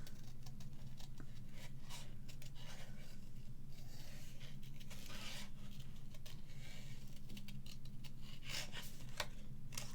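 Scissors snipping paper for a handmade stamped greeting card with a flower bouquet design, a steady run of close, crisp cuts and rustles with no talking.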